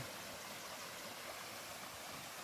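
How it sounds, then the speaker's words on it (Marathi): A stream flows through dense forest near a dam along the Narmada, giving a steady, even rush of water that stays faint and continuous throughout, with no voices. "असं इथून पाणी वाहत आहे"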